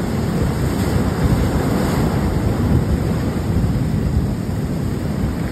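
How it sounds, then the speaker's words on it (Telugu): Large sea waves surge and break continuously at Thotlakonda beach near Visakhapatnam, a loud, unbroken roar of surf mixed with wind buffeting the microphone, with no voices. "అలలు తాగడి పెద్ద పెద్ద అలలు వస్తున్నాయి."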